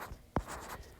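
Pen strokes on paper while writing down a calculated angle, two short, sharp scratchy marks a little over half a second apart, close and clear with faint quieter strokes between.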